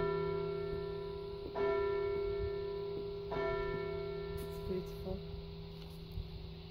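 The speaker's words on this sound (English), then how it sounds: "The bells are ringing, Esmeralda." Church bells ringing in a few distinct strikes, moderately distant, with sustained tonal hum and some background sound.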